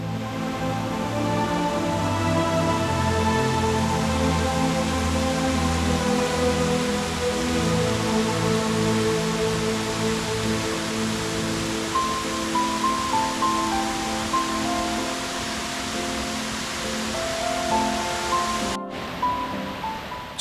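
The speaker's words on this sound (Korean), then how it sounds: "이 병풍 폭포는 병풍 바위에 조성된 인공 폭포로" An artificial waterfall spills down Byeongpung rock at Gangcheonsan, giving a steady, dense roar of falling water that stays loud and even throughout with no talking, while soft music-like tones sit faintly underneath.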